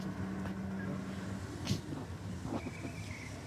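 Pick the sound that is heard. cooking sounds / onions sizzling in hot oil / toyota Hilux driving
toyota Hilux driving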